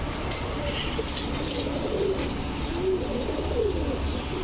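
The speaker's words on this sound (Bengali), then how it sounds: "এরপরে দেখাবো একটা দুধ খাকি মাদি কবুতর" Soft pigeon cooing from female racing and flying-line pigeons in a loft, low rolling coos repeating a few times over a steady background hum, with no speech.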